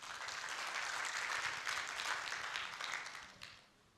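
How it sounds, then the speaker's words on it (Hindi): Brief burst of audience clapping for a guest during a LinkedIn personal branding talk, dense and fairly steady for about three seconds before tapering off quickly. "एक तो भाई के लिए ज़ोरदार तालियां हो जाए यार."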